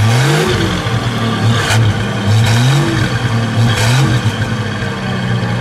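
A 1963 Ford Falcon Futura Convertible engine revs repeatedly, pitch rising and falling in several short bursts over a loud, close single-exhaust rumble.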